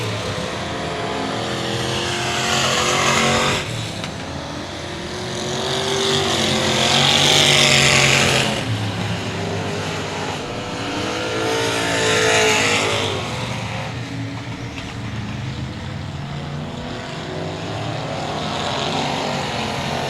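Race cars, including the C3 of Chris Birmingham, roar around the Cotton Bowl Speedway oval, engine noise swelling and fading as the pack passes, loud and continuous with no talk.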